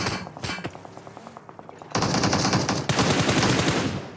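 Rapid automatic gunfire in a shooter game, a fast rhythmic burst of close shots, then a loud, dense sustained volley that continues to the end, with no talking.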